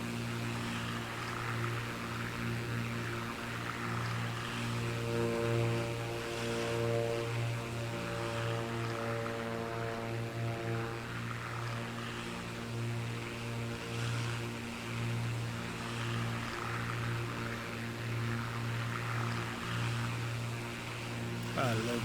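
Twin piston engines of a Black Square Baron in Microsoft Flight Simulator 2024 drone steadily in cruise, a constant loud propeller hum that holds level throughout.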